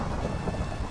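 Steady rain hisses and patters with a low thunder rumble beneath it during a thunderstorm in the Minecraft video game, continuous and fairly loud with no voices.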